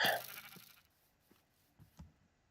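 A Minecraft sheep bleats once, loud and close at the start, followed by faint soft footsteps and small game sounds.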